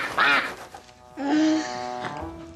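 Duck quacking in a scene from the film The Pacifier: a bright raspy quack, then a longer nasal drawn-out call with a shorter one trailing, loud and close with no talk over it.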